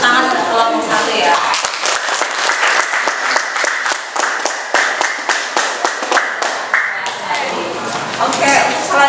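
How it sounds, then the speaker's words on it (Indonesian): A classroom group applauds the first student group in an Indonesian teacher-training session: many hands clapping in a dense, lively burst for several seconds, close and loud, with a voice faintly audible at the edges. "kita kasih tepuk tangan untuk kelompok satu ya"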